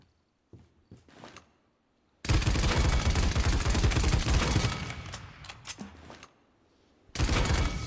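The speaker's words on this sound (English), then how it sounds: "Shooting." Dense, sustained gunfire from the video game Paladins, a loud continuous burst of rapid shots lasting several seconds that tapers off, then resumes abruptly after a short pause, with faint scattered shots and movement before the main volley.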